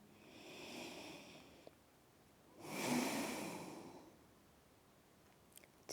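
Slow, deep breaths during a whole-body yoga stretch: a soft inhale, a pause, then a fuller, louder airy exhale, close and quiet with no talk.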